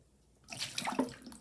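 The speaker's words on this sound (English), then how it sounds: "you want to pour it down the sink." A cup of water is poured down a sink, a short splashing rush of running liquid that starts after a brief quiet and fades within about a second.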